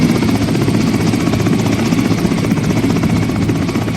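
A helicopter's rotor thumps loudly and steadily throughout, close by and continuous, drowning out everything else.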